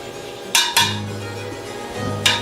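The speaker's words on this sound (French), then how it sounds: "Petite louche, je dégraisse." A small ladle clinks against a pot of beef bourguignon as fat is skimmed off, three sharp metallic knocks over a low steady hum.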